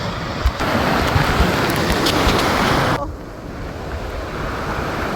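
Sea surf at Punta Cana beach rushes steadily, loud and close, with wind buffeting the microphone, easing to a softer wash partway through; no talk.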